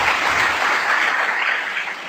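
An audience at a literary talk claps, a dense, steady roar of applause that holds evenly for a couple of seconds before easing slightly.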